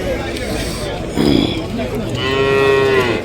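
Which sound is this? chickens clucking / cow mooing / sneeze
cow mooing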